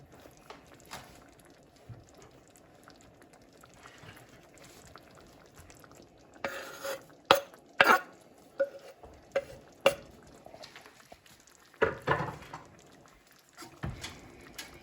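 Shrimp coconut curry with cilantro being tossed in a pan: a quiet simmer, then a run of sharp clattering scrapes and knocks of utensil on pan, in bursts that come and go.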